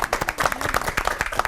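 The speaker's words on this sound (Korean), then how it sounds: "박수 한번 보내드리고 싶습니다." Studio audience clapping for a pastor at a Korean church TV lecture taping, a steady patter of hands at moderate volume, fairly close, with no one talking over it.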